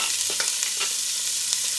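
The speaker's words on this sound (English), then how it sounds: "You hear that sizzle?" Chopped onions sizzle and crackle in hot oil in a pan while being stirred, a steady close frying hiss with a few soft stirring scrapes and no talk.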